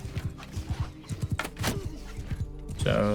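Horse galloping in Mount and Blade Bannerlord, a rapid, close clip-clop of hooves with a short whinny near the end, loud and steady under game ambience.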